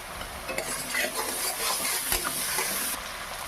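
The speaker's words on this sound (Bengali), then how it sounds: "আর কাঁচা লঙ্কা বাটা আছে, ভালো করে কষে নেব।" Green chili paste and spices sizzle in hot oil for a hilsa curry in mustard and poppy paste, stirred steadily with a spatula scraping the pan, close and continuous.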